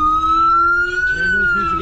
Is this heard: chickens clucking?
no